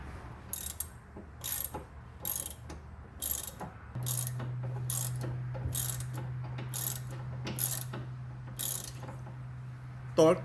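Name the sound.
ratchet tightening stabilizer link on 2015 Lancer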